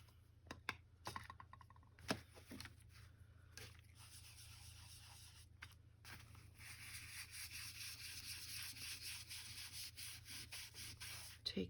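Distressing tool rubbing and scraping along the edges of a paper index card: faint, close, uneven strokes that quicken into a steady rhythmic scrubbing toward the end, with no talking.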